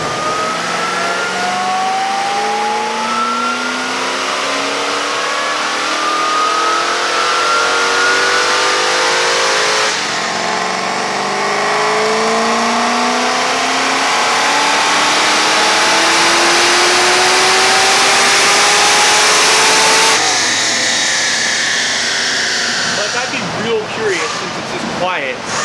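A Stage 3 Chevy Caprice roars through a full dyno pull with its mufflers removed, the engine climbing steadily in pitch, loud and continuous, then dropping off and winding down near the end.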